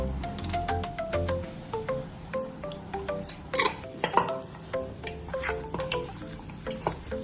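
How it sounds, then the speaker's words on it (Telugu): A mutton paya marinade with chilli powder and turmeric is worked together by hand, producing soft, wet squelching and stirring with a few light clinks against a pot, steady and close. "మనకు స్పూన్తో పట్టదని చెప్పి నేను ఇలా కలుపుతున్నాను చేతితోనే"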